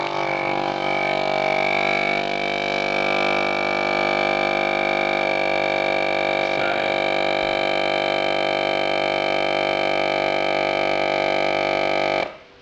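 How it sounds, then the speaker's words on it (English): A vacuum sealer packages hops during a brewday, giving a loud, steady mechanical drone with tonal whine that runs unbroken for about twelve seconds before cutting off abruptly. "Just excuse the noise there of the vacuum sealer in order to get that done"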